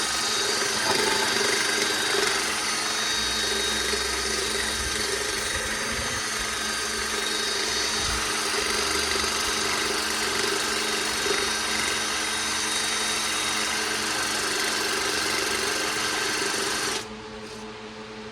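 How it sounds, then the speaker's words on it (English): Heavy-grit sandpaper is pressed against a salvaged maple bowl spinning on a wood lathe, giving a steady close abrasive rasp over the lathe motor's hum that drops away abruptly near the end. "run some heavier grit sandpaper on there, a little off center, shove it in there"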